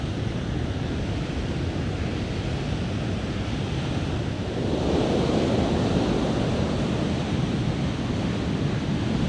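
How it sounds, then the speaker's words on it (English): Ocean surf washes up on Centerville Beach near Ferndale after the king tides, a continuous close roar of waves and foam that swells slightly midway, with wind noise across the microphone. "I really don't want the combination of waves and foam getting into my pants here"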